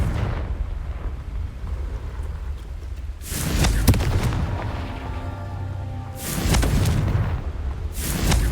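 Confringo fire-blast spell explosions in the Hogwarts Legacy video game: two heavy booming blasts with rumbling tails, separated by a low steady background rumble, loud and close with no talking.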